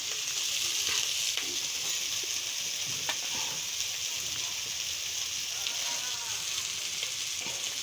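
Chopped tomatoes and chili powder sizzle steadily in a hot pan for bitter gourd sabzi, with a continuous close frying hiss and occasional scraping stirs from a spoon.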